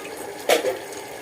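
Tap water runs briefly while plates are washed at a home sink, a short splash swelling near the middle of a quiet, steady background.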